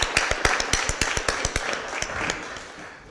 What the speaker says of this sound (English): Let's give them all a big round of applause and thank you for doing it.